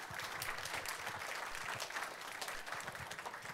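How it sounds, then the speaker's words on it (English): A conference audience gives a warm, steady round of applause welcoming a speaker to the stage at a Boston PFC event, dense and even throughout with no voices over it. "So with a warm round of applause, I'd like to introduce you to Bethany Malosh"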